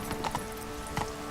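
Horse hooves clip-clop in The Witcher 3, a few quick hoofbeats in an uneven trot, close and moderately loud over a faint background hum.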